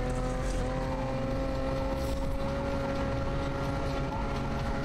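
Need for Speed Unbound car drifting: a sustained, steady engine drone with tonal whine and grinding tire texture, continuous and fairly close, no talk over it.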